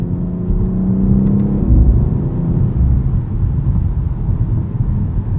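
A 2022 BMW X3 M Competition accelerates hard, its engine a loud, steady low rumble and whir that swells through the first seconds and holds strong throughout, heard from inside the cabin with no talking.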